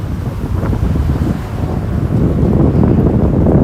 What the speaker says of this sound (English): It is a little bit windier. The wind picks up too much.